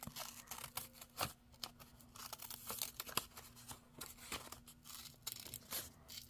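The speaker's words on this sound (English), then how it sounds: "So let's just cut this off here." Scissors cut through paper in a quiet close series of crisp snips and crinkles over a faint steady hum.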